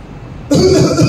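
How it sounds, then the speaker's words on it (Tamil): One loud close cough from a man during a Sunday church service sermon, a sudden harsh burst over a low background hum. "இருமல் வரதானே செய்யும்"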